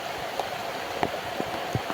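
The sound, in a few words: rain falling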